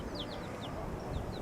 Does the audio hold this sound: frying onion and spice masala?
no